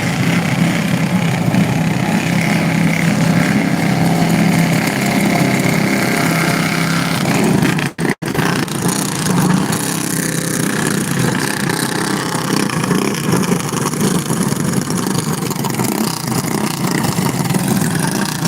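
A group of go-kart engines idle together before a race at a short track in Hanceville, Alabama, a loud continuous drone broken by one brief dropout and a few swelling revs.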